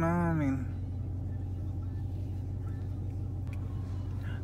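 Straight-piped 5.7 Hemi V8 in a 2013 Chrysler 300C cruising, a steady deep exhaust drone held evenly throughout, loud and close, with a short rising tone at the very start.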